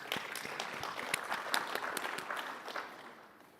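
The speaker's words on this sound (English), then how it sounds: "let's have a big round of applause for all of you" An audience at a Microsoft Office 365 groups conference session applauds in a short burst of dense, scattered clapping that fades toward the end.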